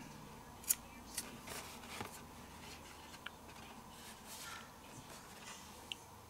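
Scissors make a few crisp, separate snips while trimming small pieces of paper card for a handmade banner-style birthday card, quiet and close with short pauses between cuts and no talking.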